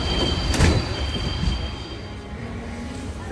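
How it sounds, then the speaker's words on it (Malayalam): A Paris metro train pulls into the station, a steady rumble of rail noise with a brief louder burst early on and faint high whines trailing across the platform. "ഇപ്പോൾ 0 minutes ആയി ട്രെയിൻ വന്നുകൊണ്ടിരിക്കുകയാണ്"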